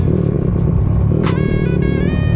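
A Yamaha Sniper 135 motorcycle accelerates hard nearby, its engine a loud, dense roar with a sharp rising whine partway through, running continuously for over two seconds with no voices.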